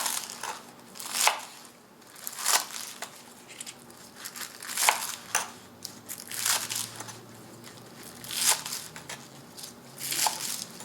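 A knife chops green onion into quarter-inch pieces on a board, giving slow, regular crunchy cuts about once a second, each a distinct close burst over quiet room tone with no speech.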